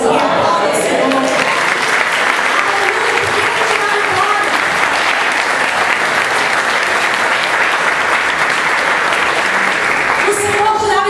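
Church congregation applauding in worship, loud dense clapping from many hands sustained throughout, with voices and shouts mixed in the crowd noise.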